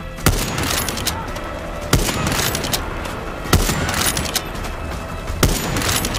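Dense, continuous automatic gunfire with a few louder sharp blasts cutting through, a chaotic firefight in the video game Far Cry 6, with no pause throughout.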